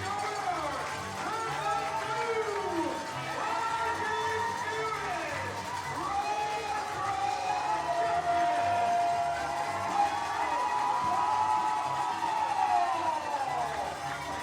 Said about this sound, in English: I can't hear anything right now besides this crowd